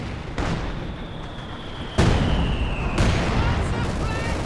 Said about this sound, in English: Bit of a Zis barrage out the back as well.